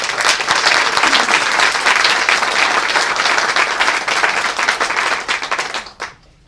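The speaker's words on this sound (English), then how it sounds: "Let's give them a round of applause." Audience applause at the grand opening ceremony of the Chatham County Schools Central Office, a loud, dense, steady clapping from a crowd lasting about six seconds before quickly dying away.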